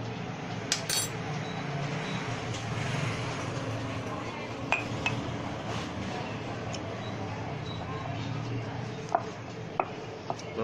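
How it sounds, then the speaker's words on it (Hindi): A spoon stirring a mixture for kushta seh dhata, with soft scraping and occasional light clinks of metal against the bowl, steady and close over low room noise. "इस तरह आस्ता आस्ता सारा मिक्स करने आ।"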